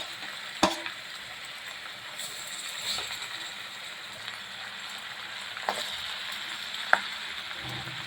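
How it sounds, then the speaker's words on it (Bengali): Hilsa fish fry lightly in a pan, giving a constant low sizzle broken by a few sharp clicks and spatters, quiet and without voices. "মাছগুলো আমি হালকা হালকা করে ভেজে নিয়েছি"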